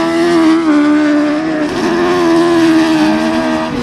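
An autograss race car roars loudly and steadily at high revs as it slides round a dirt track in a ladies' race, the engine note wavering slightly throughout.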